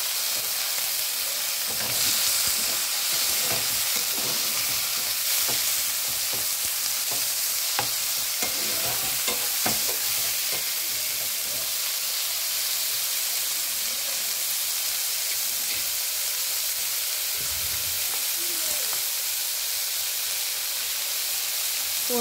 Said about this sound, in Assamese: আৰু এতিয়া 1 চামুচ সৰিয়হ তেল দি দিম আৰু এতিয়া দি দিম লাউ গুটিখিনি গোটেইবিলাক দিছো